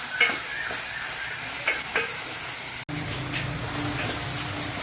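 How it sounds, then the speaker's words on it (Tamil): Onions and tomatoes sautéing in a pan for a South Indian urundai kuzhambu, a continuous close sizzle with a few scraping stirs and a brief cut near the middle, no talking. "இப்போ தக்காளி சேர்த்துக்கலாம். தக்காளி நல்லா வதங்கட்டும்"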